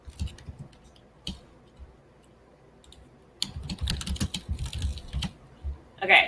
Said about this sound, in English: I feel like my mic is really close to my keyboard.